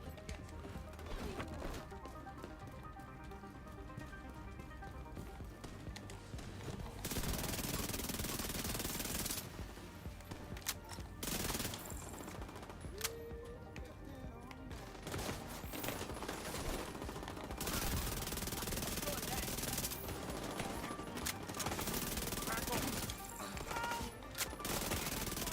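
Submachine gun fire in The Division 2, loud sustained automatic bursts and fusillades with brief gaps, dense and continuous over a long stretch of combat.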